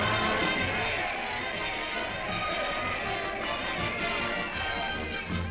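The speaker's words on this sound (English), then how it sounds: "Look at that crowd." A large hometown crowd cheering a returning soldier in a WWII-era cartoon, a steady, dense roar of many voices that holds at a constant level from start to finish.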